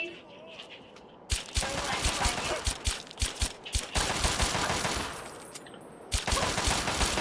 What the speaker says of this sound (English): Why is the shooting?